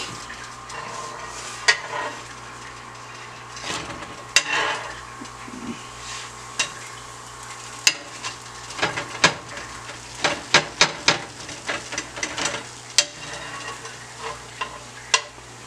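Dhalpuri roti cooking in oil in a hot pan, with a low steady sizzle under scattered scraping, tapping and utensil clinks against the pan, growing busier toward the end.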